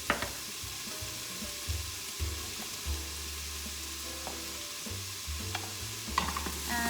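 Jarred garlic sizzles in an Instant Pot for white beans and ham, a soft constant crackle with occasional stirring scrapes and low rumbling bumps, close but modest in volume.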